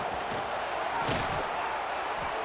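Football stadium crowd roaring at a high school game between Strawberry Crest Chargers and Des Moines East Scarlets, a dense continuous wash of cheering with faint thuds underneath.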